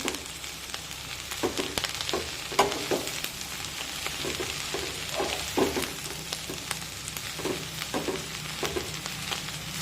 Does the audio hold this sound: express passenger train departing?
no